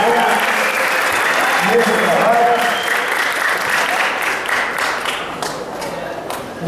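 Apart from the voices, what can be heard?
audience applause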